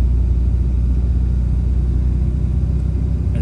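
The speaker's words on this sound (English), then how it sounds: "this is just gonna be part throttle cruising" A Cummins 6.7L diesel truck engine cruises at part throttle, a steady deep low rumble with a constant drone from inside the cab, no revving changes and no talking.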